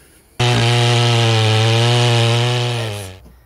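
A vintage Husqvarna 2100 CD 99cc chainsaw roars to life and runs at a loud, steady high idle for a few seconds, then begins to wind down.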